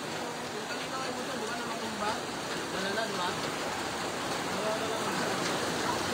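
Steady rain falls during a flood in Payatas, Quezon City, a continuous even hiss of water with a faint voice murmuring underneath.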